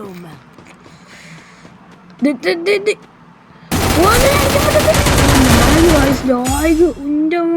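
Rapid bursts of gunfire in a Free Fire Clash Squad match, with a few short shots followed by a loud, sustained volley lasting several seconds, while a voice speaks over it.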